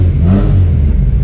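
A Honda Integra engine revs up loudly close by, a deep throaty roar climbing in pitch briefly before settling to a steady rumble.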